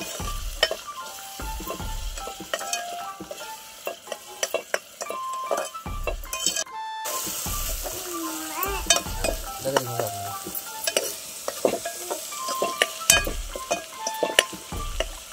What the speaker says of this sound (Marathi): टोमॅटो प्युरी पण छान अशी ह्या तेलामध्ये तळसून निघायला पाहिजे।